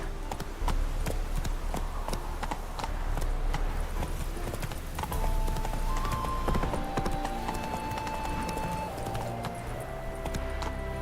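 Roach, a horse in The Witcher III, gallops with steady, continuous clip-clop hoofbeats throughout, loud and close, with occasional whinnies and faint game sounds mixed in.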